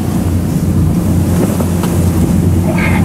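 A whale-watching tour boat out of Rausu port off Shiretoko cruises through high waves, with loud engine rumble, water slapping the hull and wind buffeting the microphone throughout.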